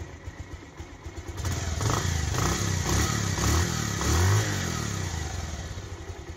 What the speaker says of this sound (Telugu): ఇంజిన్ బీటింగ్ ఏనండి